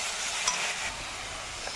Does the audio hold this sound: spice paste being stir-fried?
yes